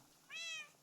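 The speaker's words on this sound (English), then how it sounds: "What is that? Oh, that's a cat." A single short Minecraft cat meow, clear and mid-pitched, sounds once in quiet surroundings in modded Minecraft.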